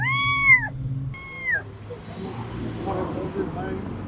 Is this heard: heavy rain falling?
no